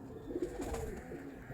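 Pigeon cooing, a soft low rounded call heard faintly against quiet background noise.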